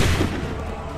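A musket volley in Assassin's Creed 3 erupts as a dense, booming burst of massed gunfire that quickly decays into a rumbling roar, loud and close.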